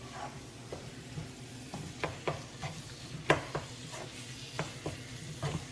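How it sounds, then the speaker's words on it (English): A mutton cutlet mixture fries in oil in a karai over medium-high heat, with a steady low sizzle and intermittent scraping stirs and spoon clinks, close and moderately loud, without talk. "We'll fry it on medium to high heat for around 10 minutes."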